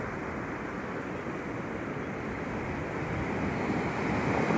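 Ocean surf washing ashore at Peunaga Pasi beach in West Aceh on an afternoon, a continuous rushing roar mixed with wind that swells louder toward the end.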